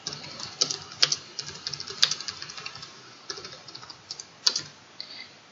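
Text being typed on a computer keyboard, a quick, uneven patter of light key clicks with a few louder strokes, close and quiet with no talk.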